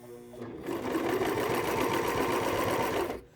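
A Brother 2340 coverstitch machine runs a short burst of stitching, a rapid even mechanical whir lasting about two and a half seconds before stopping, close and alone.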